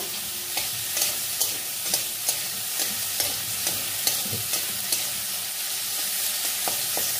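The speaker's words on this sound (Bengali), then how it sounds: "এইবার দিয়ে এটাকে একটু নাড়াচাড়া করব" Papaya and tomato pieces being stirred in a hot pan, a continuous sizzle broken by regular spatula scrapes and taps roughly every half second, close and clear with no talking.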